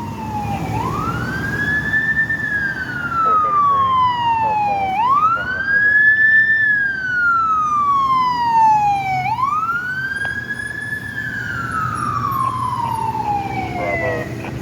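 Fire truck sirens passing close on a city street along Columbus Ave, loud bright wails sweeping up and down three times with overlapping siren tones and a low engine rumble beneath.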